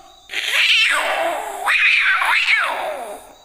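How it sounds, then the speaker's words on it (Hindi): Two fighting cats yowl and caterwaul in long, rising and falling wails, close and loud, with a short pause between two drawn-out bursts. "पहले शुरुआत से बिल्ली क्या करते हैं, म्याऊं म्याऊं म्याऊं म्याऊं"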